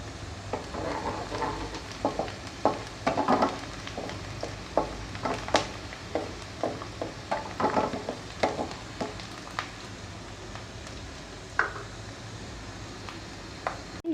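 Onions fry in a pan for a chicken biryani, giving a quiet sizzle with frequent irregular scraping strokes of a spoon, close by and without speech.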